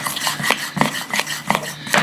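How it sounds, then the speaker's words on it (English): A spoon stirs blueberry biscuit batter in a bowl, producing close, irregular scraping and soft knocks about twice a second, with no voices. "You want to stir it up really good"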